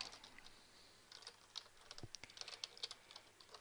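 Quiet typing on a computer keyboard, a soft run of irregular key taps that picks up toward the end, close and faint with no voices.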